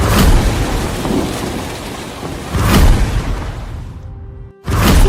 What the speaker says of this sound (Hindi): उनके जाते ही आसमान में काले बादल छा गए और मूसलाधार बारिश